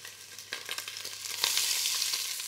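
Chorizo and onion fry in a pot, a steady broadband sizzle rising in intensity, with a few sharp crackles and spits near the start and middle, loud and close with no voices.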